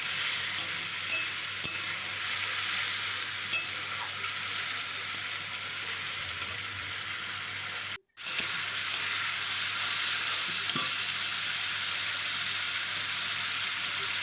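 Spice paste with soybeans sizzles and fries steadily in a pan after a splash of water is added, producing a loud, continuous hiss. The hiss breaks off only once, briefly, partway through.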